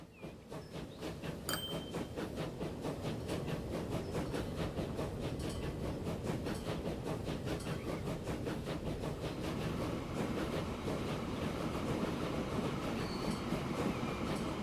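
Trains rumble and clack steadily along rails in the Transport Fever 2 railway game, a continuous loud run of wheels with rhythmic clicking over track joints and occasional faint squeals, no voices.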